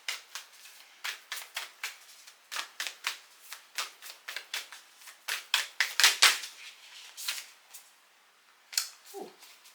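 A star seed oracle card deck being shuffled by hand, producing rapid close riffling flicks in repeated bursts, crisp and dry, with a short pause before a final few snaps.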